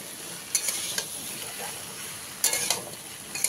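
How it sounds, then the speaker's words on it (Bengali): Okra, potato and pumpkin fry in a pan with a steady, close sizzle, broken by a few sharp scrapes of stirring. "ঢেঁড়সটা দিয়ে ভেজে নেবো একটু সময়।"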